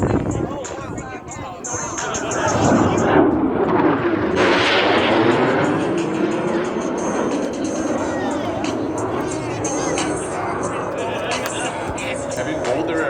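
Two Blue Angels jets, numbers 5 and 6, sweep past the flight line at about 400 mph during an air show in LA, a loud, sustained roar that builds and lingers with a falling whoosh as a voice talks over it.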